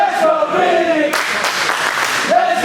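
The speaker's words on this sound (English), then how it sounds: "The crowd cheering on Vinny." A wrestling crowd at a King of New York event cheers in a sustained roar of voices and applause, with a commentator talking over it in the foreground.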